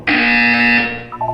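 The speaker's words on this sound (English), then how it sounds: "You will hear a buzzer" A buzzer from the video game Portal 2 sounds once as a single loud, flat electronic drone held for most of a second before fading, with a brief softer tone after it.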